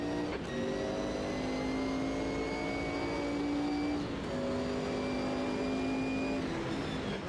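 Group C sports cars race on a sodden Nurburgring in the Automobilista 2 sim, their engines holding a loud, sustained high-pitched drone with a gear change or pitch dip early on and another around the midpoint.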